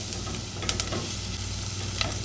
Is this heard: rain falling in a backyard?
no